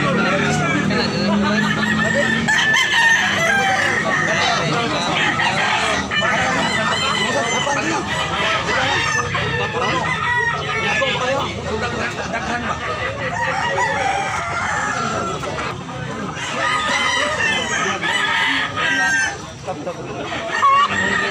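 Several roosters crow repeatedly over a dense, constant background of clucking chickens and a noisy crowd, loud and close throughout.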